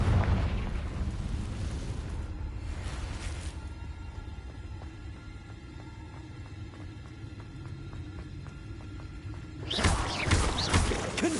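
Confringo blasting-spell explosions in Hogwarts Legacy: a loud burst at the start and another near the middle, then a quieter stretch of rhythmic ticking, and a final heavy explosion late on, with no talk.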